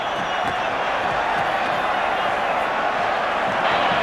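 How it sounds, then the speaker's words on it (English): A rugby crowd at Auckland during a Super 12 final sings and roars in a steady, dense wash of massed voices heard from a distance throughout. "It's quite marvellous, isn't it, to hear an Auckland crowd singing to the tune of this game."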